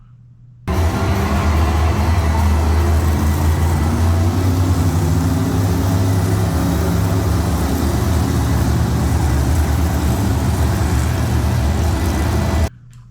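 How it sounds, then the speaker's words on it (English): Monster trucks rolling into an arena at the Endymion event, their big engines producing a loud, sustained roar and low droning hum that starts abruptly and holds steady for about twelve seconds before cutting off. "This is the introduction of all the monster trucks coming into the arena."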